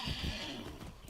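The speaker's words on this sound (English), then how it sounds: "I heard a horsey." A horse neighs in the Far Cry 6 video game, a fairly loud whinny over a steady rumble of game ambience, with faint hoof clip-clop underneath.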